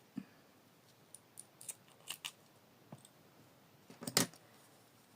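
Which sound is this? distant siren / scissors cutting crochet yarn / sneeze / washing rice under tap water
scissors cutting crochet yarn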